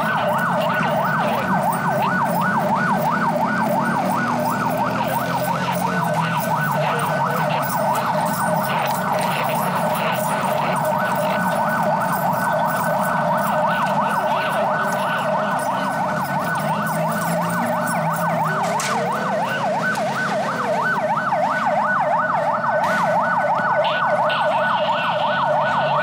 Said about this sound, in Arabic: سيارة إسعاف تملأ المكان